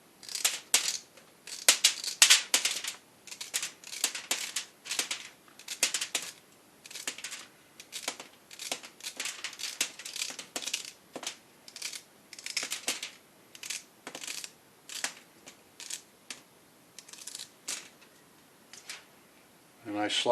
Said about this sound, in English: I take my celery and I dice it up.